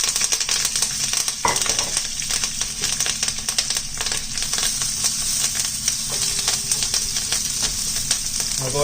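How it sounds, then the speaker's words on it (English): Garlic, thyme and onion sweat in hot oil with a steady, close sizzle and crackle that runs unbroken throughout, broken by occasional faint stirring clicks. "let these sweat in the oil until there's a slight golden brownness on the edges of the onion"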